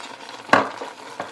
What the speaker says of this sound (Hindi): अब मैं इसको ज़रा अच्छी तरह मिक्स करती हूँ और पकाती हूँ